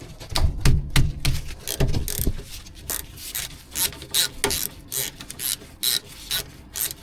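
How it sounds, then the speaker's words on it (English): Sharp ratchet clicks in quick bursts as a 12mm caliper bolt is undone on a VW T5.1 van's brake, close and loud, with short pauses between the clicking runs. "Next you've got a 12mm bolt holding the caliper to the carrier."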